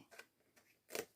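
Scissors snip through paper while cutting a notebook cover, giving three soft, close cuts, with the last one the loudest.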